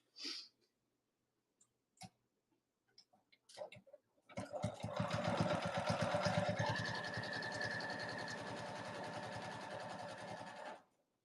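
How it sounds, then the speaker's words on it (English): A sewing machine stitches two folded fabric edges together on a small lay-flat zipper bag. A few light clicks and taps come first, then a steady, close, continuous mechanical whirr runs for several seconds before stopping abruptly. "I'm going to sew on the two folded edges meeting part."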